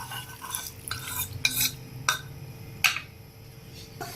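A spoon stirs chicken soup thickened with cornflour in a pot, giving quiet, irregular scrapes and clinks against the metal over a faint low background, with no talking.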